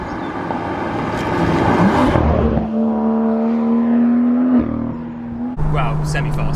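A BMW M2 accelerates hard, its engine note rising through the revs, then dropping at a gear change before climbing again. The engine is loud and close, with people talking beneath it.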